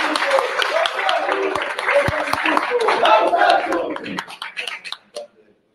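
A crowd at a protest rally applauds loudly, with dense clapping, shouts and cheering voices mixed together, before the clapping thins to a few scattered claps and stops near the end.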